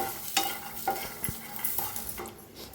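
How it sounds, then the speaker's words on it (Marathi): Garlic and green chilies roasting in a pan, a soft sizzle under several distinct scraping stirs and clinks of a spoon against metal, close and moderately loud. "आता लसूण आणि मिरची बी भाजून घेऊया छान असं भाजून घेऊया"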